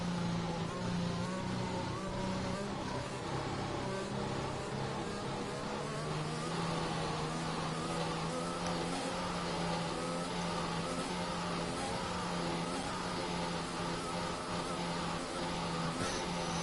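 A race car engine drones steadily in a racing game set at Abu Dhabi after a safety car restart, a sustained buzzing whine held on throttle throughout with faint voices underneath.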